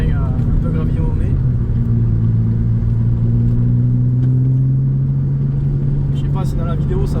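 An Alfa Romeo 147 GTA drives slowly on a gravelly track, its engine a steady low drone that rises gently in pitch, with tires crunching and popping over small stones as someone talks over it.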